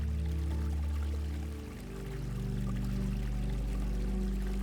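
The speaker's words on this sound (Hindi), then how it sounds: "वाटर बॉडी यूज़ करने का रीज़न ये था कि वाटर बॉडी की आवाज़ जो आता है वो आपको एक अलग दुनिया में लेके जाता है" Water pours and streams steadily through a concrete water feature in a home, a continuous close gurgling flow with no voices.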